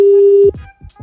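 A steady electronic phone tone sounds for half a second and cuts off, followed by a few soft clicks and handling noises.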